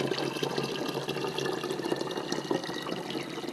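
Water runs steadily from a tap into a container of rice, filling it to about halfway, a continuous close splashing rush with no pause.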